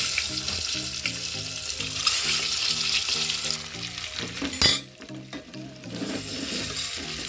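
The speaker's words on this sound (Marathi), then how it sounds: "म्हणजे थोडेसे अंडे ना आपण फ्राय करून घ्यायचे" Eggs fry in hot oil with turmeric and salt, a loud continuous sizzle with a steady rhythmic thumping pulse underneath, then a sharp clatter after which the sizzle drops quieter and thinner.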